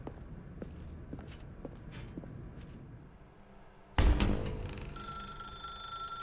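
In the video game The Stanley Parable: Ultra Deluxe, a telephone suddenly starts ringing loud and bright after a few seconds of quiet footsteps and faint ambience.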